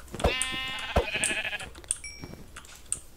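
A sheep bleats loudly twice up close in a modded Minecraft-style game, each a wavering, nasal cry, followed by scattered small game clicks and thuds.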